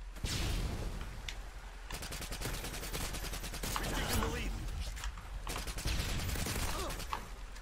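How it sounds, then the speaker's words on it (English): Rapid bursts of automatic gunfire crackle through a team deathmatch in Call of Duty: Modern Warfare 2 on PS3, with sharp repeated shots, mechanical clatter and short pauses between volleys. "Terrible shooting there by me, but I got the job done."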